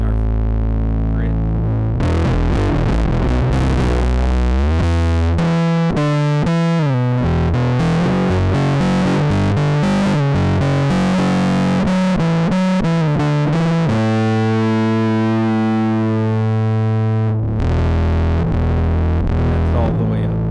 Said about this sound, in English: That's the basic distortion side of it.